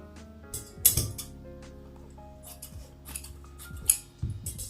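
Scissors cut fabric while a peplum dress is being made, giving a few sharp snips spaced across a quiet room with no talk.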